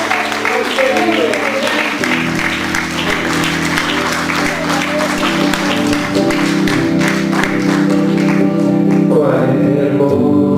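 A church congregation claps along through a worship song, steady rhythmic applause blended with loud music and singing voices throughout.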